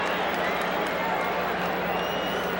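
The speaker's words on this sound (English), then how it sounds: "And now a mock cheer." Baseball stadium crowd at the 1985 World Series letting out a sarcastic mock cheer, a steady distant roar of many voices that holds evenly throughout, mingled with broadcast commentary.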